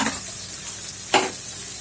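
Steady sizzling of masala frying in a pan, with a brief louder hiss and scrape partway through as something is stirred.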